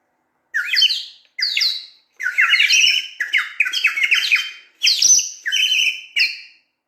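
A sazsyrnai, a Kazakh clay flute, imitates birdsong with bright, chirping, trilled bursts in several quick phrases separated by short pauses, loud and close with no talking.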